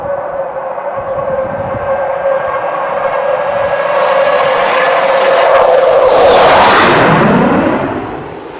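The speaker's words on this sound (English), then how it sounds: "any sort of low-level pass by the 727 is an exciting one" A loud Boeing 727 jet roars past in a low-level flyby overhead, its whine sweeping down in pitch as it swells to a peak and fades away.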